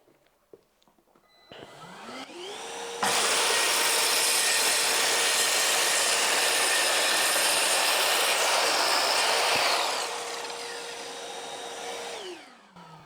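Einhell TC CS 1250 circular saw spinning up, then biting through spruce with a loud, steady rasping whine for several seconds, easing off and running down at the end, close by, no talking.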